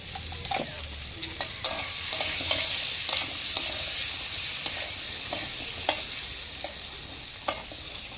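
Potatoes with turmeric and salt fry in a pan over a clay stove, giving a close, steady sizzle with regular spatula scrapes and taps every second or so.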